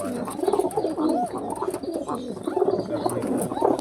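A large pigeon coos close by, giving a run of deep, rolling, throaty coos that rise and fall in a continuous rhythm.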